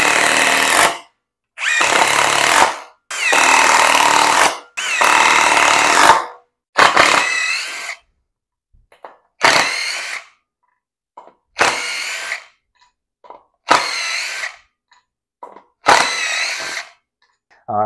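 A Metabo HPT subcompact drill driving screws, heard as a run of separate loud motor bursts that start long and steady, then turn shorter and stop-start, with silent gaps between each screw.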